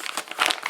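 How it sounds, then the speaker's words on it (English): A big plastic bag packed with pulled 7.62mm bullets crinkles close up in short, crisp bursts of rustling, with no voices over it. "just a big plastic bag full of bullets"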